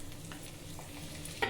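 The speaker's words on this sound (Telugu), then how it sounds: "ఇలా గీలో అంతా కూడా రోస్ట్ చేసేసుకొని ఇలా పోపు వేసేసుకోవాలి" Mustard seeds, cumin and a green chilli roasting in ghee as a tempering for pongal, a steady soft sizzle with light stirring and a sharper crackle near the end, no voices.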